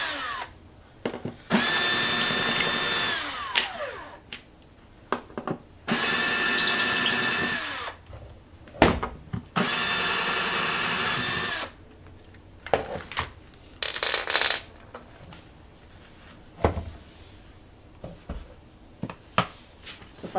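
A power drill whirs in repeated bursts, backing screws out of the arm of a Shuanghu gaming chair, loud and close, with pauses, clicks and handling noises between runs.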